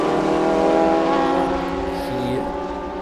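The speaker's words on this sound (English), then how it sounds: "Matthew Butson off the final corner to the checkered flag" A race car at Watkins Glen powering off the final corner toward the checkered flag, a loud, close engine note holding a steady high pitch that eases slightly as it passes, with a commentator talking over it.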